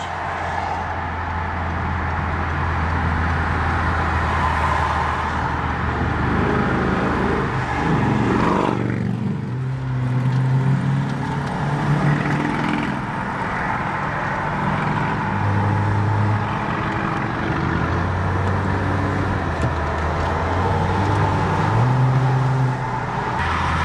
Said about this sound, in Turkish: Aracı ana yolda test ediyoruz.